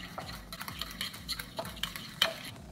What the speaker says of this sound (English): We'll add the turmeric. Going to mix it very well.